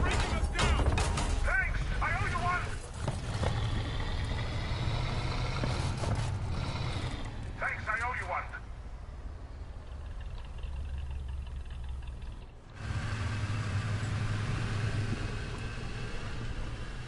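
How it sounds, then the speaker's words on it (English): Truck engine in the War Thunder video game, a steady low rumble driving nearby throughout, mixed with clanking mechanical game sounds and brief bursts of other noise. "I hear a truck up ahead"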